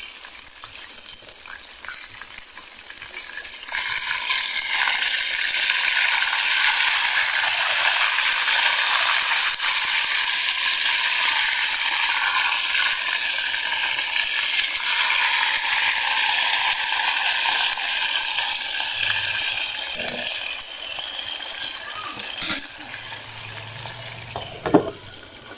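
Dried marinated milkfish, daing na bangus, frying in hot oil in a pan, a loud steady sizzle and crackle that runs unbroken throughout with no voices, plus a few small knocks near the end.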